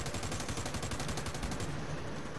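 Pistol shots ring out in a video game shootout, a quick, steady string of sharp bursts for nearly two seconds, then the firing stops and a quieter game background remains.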